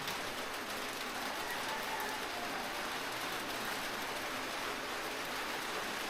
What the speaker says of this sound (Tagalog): Oh my God, ulan.